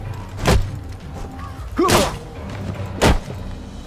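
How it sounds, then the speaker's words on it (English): Bombing explosions in the video game We Happy Few land as three heavy, booming thuds at even intervals, fairly close, with quieter rumbling and creaks between them. "They're bombing us again."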